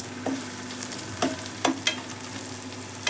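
Onions frying until browned in a pan, a steady close sizzle punctuated by a handful of light, sharp stirring taps.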